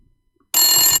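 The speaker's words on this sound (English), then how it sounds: "Phone. Old phone." An old landline telephone rings once, a bright metallic bell burst lasting about half a second after a near-silent pause, loud and close.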